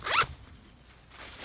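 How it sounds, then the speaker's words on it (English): A short, close zip on a Wisport Raccoon 85-litre military backpack gives one quick rasping pull, then the sound drops to a low quiet rustle with a faint rise at the end. "The zips are good."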